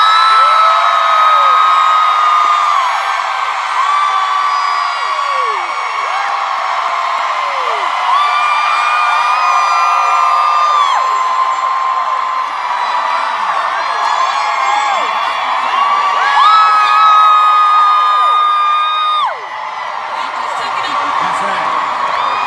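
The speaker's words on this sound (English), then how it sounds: "I want everybody in here for the next 5 seconds to cheer as loud as an excitement as you can." A conference audience cheers, whoops and yells loudly together for several seconds, a dense sustained roar of many voices filling the hall from start to finish.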